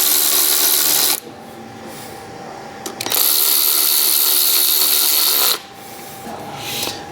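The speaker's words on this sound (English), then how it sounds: "I'm going to go around with the ratchet gun." A power ratchet gun runs in two loud whirring bursts, each about two to three seconds, tightening injector harness bolts, with a brief gap between them and a quieter hum afterward.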